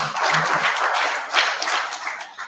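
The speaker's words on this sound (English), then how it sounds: "I think it's also okay to give him another round of applause." Audience applause at a research and innovation week presentation, a steady, full burst of many hands clapping that swells briefly midway and carries on throughout.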